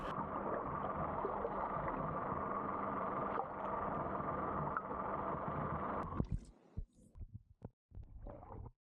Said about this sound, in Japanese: そしてこれは船の前進ギアを入れただけの低速走行状態ですね。